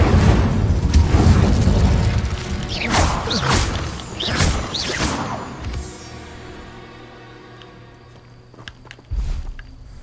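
In a Harry Potter video game, spells are cast in quick succession, producing loud booming explosions and magical whooshes over a busy game soundscape, followed by a quieter stretch and a final thud.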